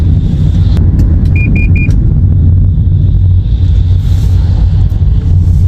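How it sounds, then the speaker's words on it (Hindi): Three short, evenly spaced warning beeps from a car's driver-assist system sound over steady road rumble while driving through Greater Manchester, England. "ये गाड़ी ने वार्निंग दी है कि आगे साइड पे गाड़ी खड़ी है और थोड़ी स्पीड कम करो।"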